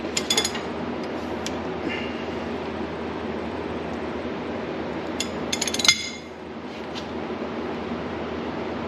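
A 3/4-inch drive ratchet snugging down bolts on a John Deere 5115R tractor, with quick bursts of metallic clicking, a few sharp clinks and a faint steady hum behind them.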